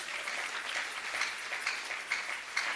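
A church congregation applauding, a steady wash of many hands clapping at moderate distance, sustained without pause and with no voices over it.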